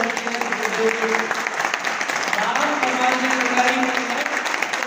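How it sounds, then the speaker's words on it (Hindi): An audience at a motivational training seminar breaks into loud, steady applause, a close and continuous wash of clapping lasting throughout with faint voices underneath. "सही है, जोरदार तालियां दो।"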